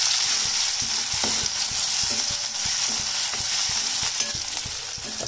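Onion and tomato frying with mustard seeds and cumin in a pan, cooking a wet cashew vegetable dish: a steady, close crackling sizzle with light stirring scrapes and small clicks throughout, no voices.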